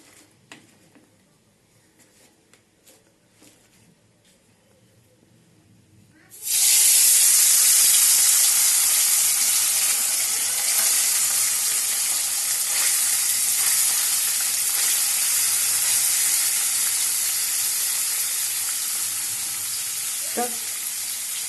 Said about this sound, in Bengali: এইবারে মাছটাকে ভাজবো ভালো করে।